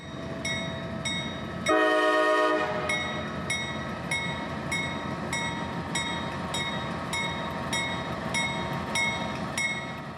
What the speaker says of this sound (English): the train that would be setting off the crossing bells and gates would be a short one, comprised of 2 biodiesels